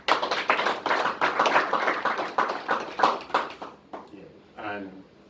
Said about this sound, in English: And you can hear the clapping